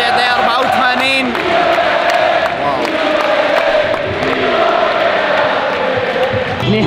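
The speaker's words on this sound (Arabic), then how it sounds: "مع صوت الجمهور تشجيع الدقيقة 84" Stadium crowd at a Real Betis vs Atlético Madrid football match late in the game, loud sustained cheering and chanting with shouts and whoops rising from thousands of voices, unbroken for several seconds.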